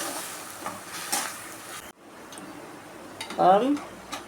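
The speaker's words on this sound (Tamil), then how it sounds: "இது நல்லா கொஞ்சம் பச்சை வாசனை போகிற வரைக்கும் கொஞ்சம் வதக்கிக்கணும்" Ground coriander leaves sautéed in a pan for coriander rice, giving a soft, steady sizzle with brief scraping stirs, a short pause, then a louder clatter of the spoon against the pan near the end.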